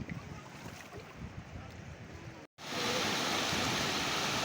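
Steady rushing water from a clear lake or reservoir fills the clip, briefly cutting out for a moment before returning louder and brighter, with no voices.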